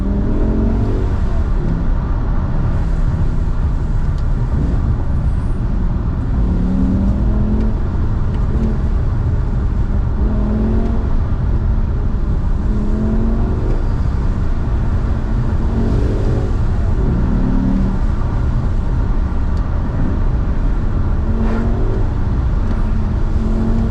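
A 2005 BMW M6 E63 engine revs up and drops back in repeated downshifts, a steady loud in-cabin drone with rhythmic rises and falls throughout, no talking over it.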